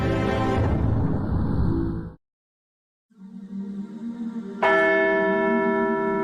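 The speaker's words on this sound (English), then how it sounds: "Latin chants resounded and bells tolled as Pope Francis's coffin was carried in a solemn procession" Church bells toll loudly at the Vatican during Pope Francis's coffin procession, then a brief silence, then the ringing resumes with clear, sustained tones lingering close by.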